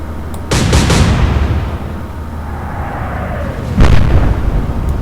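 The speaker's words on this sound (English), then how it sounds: "Then we can of course open fire on the destroyer." Naval gunfire against a destroyer in the WWII naval game Atlantic Fleet, with two loud close cannon blasts a few seconds apart, each followed by a rumbling decay and a faint whistling shell in between.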